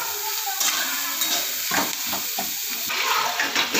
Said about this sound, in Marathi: आता ह्यात आपण कांदा परतायला घालूया। कांदा छान परतून घ्यायचा।